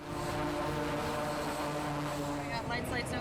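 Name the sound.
jet aircraft engine at full throttle on carrier deck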